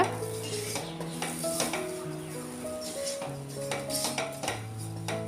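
Chopped tomato being stirred into spiced masala in a pan for Kerala-style kadala curry, repeated scraping and clinking stirs over a low sizzle, with a steady background tone running throughout.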